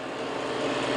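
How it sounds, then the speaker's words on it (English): Vacuum pump of a Branson IPC 300 plasma barrel etcher running steadily at close range, a continuous broadband mechanical hum and hiss with no breaks or talk. "what you're hearing right now is the pump running, so it's kind of a little bit loud."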